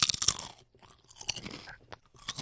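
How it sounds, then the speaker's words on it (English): Someone bites and chews a Walkers crisp close to the microphone, giving loud, bright crunches in quick bursts with brief quiet gaps between them. "I want everyone to hear all of the details of this crunch."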